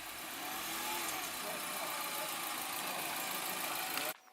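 A car's 150 hp engine runs steadily as the car turns around, a continuous close mid-pitched drone with a broad rushing noise that cuts off abruptly near the end.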